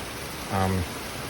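Rain falls as a steady broadband hiss around a turbo swap on a 302 Mustang GT, with a brief voice-like sound rising over it midway.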